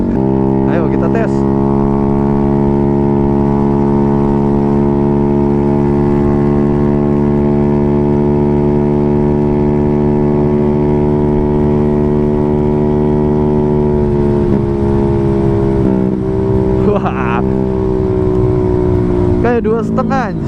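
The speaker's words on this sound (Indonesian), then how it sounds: "Pakai standaran udah keras, apalagi ini pakai knalpot racing ya kan." A scooter engine fitted with a full-system SC Project racing exhaust drones loudly and steadily at high revs with a raspy exhaust tone, its pitch dipping and wavering toward the end.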